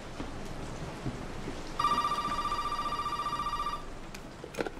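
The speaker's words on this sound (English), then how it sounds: "Fucking phone, bro." Telephone ringing in Resident Evil 7, a single clear electronic ring pulsing rapidly for about two seconds over a soft rainy game ambience, with a faint thump afterward.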